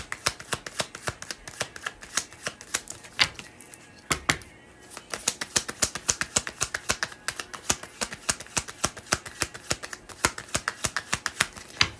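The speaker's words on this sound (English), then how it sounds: "while I'm shuffling forever" Tarot cards being shuffled by hand, a steady run of crisp riffling flicks and slaps with a brief pause midway, close and fairly quiet with no talking.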